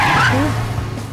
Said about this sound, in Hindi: और अचानक आपने एक जोरदार ब्रेक मारा।